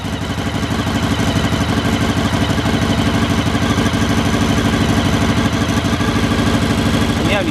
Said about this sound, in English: That's what that V4 sounds like, barking into life